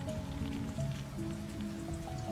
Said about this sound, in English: There's something deeply pleasant about a summer shower on a warm day, the way it cuts through the humidity.